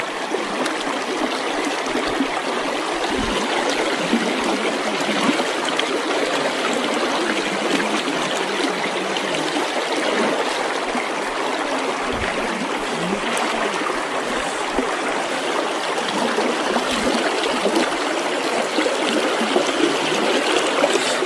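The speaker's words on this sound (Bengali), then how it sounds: "পানিটা এখান থেকে এসে এখানে চলে যাচ্ছে।" Stream water flows over rocks beside a hill trail on the way to the Tinap Saitar waterfall, a steady close babbling and trickling rush that continues without pause.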